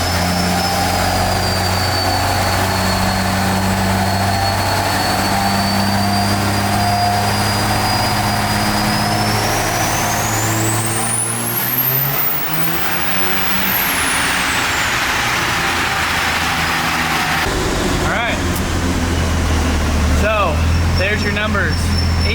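A car engine fitted with an ATS three-piece T4 exhaust manifold on a dyno, its loud drone climbing in pitch through a long pull, then a turbo whistle sweeping up and fading as it winds down.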